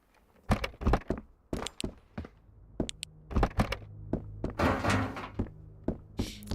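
RK62 assault rifle firing in the survival shooter Road to Vostok, a series of sharp, loud single shots spaced irregularly, some followed by a rumbling echo, with no talking.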